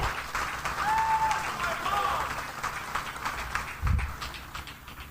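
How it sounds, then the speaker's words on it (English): Clapping from an audience at an awards ceremony rises and then fades, with voices and crowd chatter mixed in throughout. "So everybody, just give Abigail a hug and a round of applause for coming."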